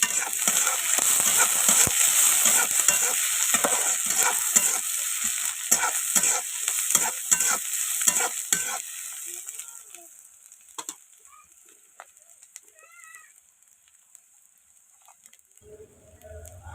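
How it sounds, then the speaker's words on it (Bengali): Chopped onion and green chilies frying in hot oil in a pan for a Bangla stick noodles recipe, loud steady sizzling with rhythmic stirring scrapes for about nine seconds, then easing to a quieter simmering crackle with a few scattered clinks. "এবার ভালোভাবে একটু ভেজে নিতে হবে, ব্রাউন কালার করে ভেজে নিতে হবে।"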